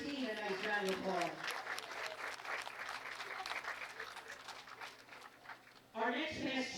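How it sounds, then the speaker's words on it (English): Applause from an audience at a bowling tournament at Bowl-O-Rama in Reading, Pennsylvania, a burst of steady clapping that rises between stretches of an announcer talking at the start and end. "So please give Christine a nice round of applause."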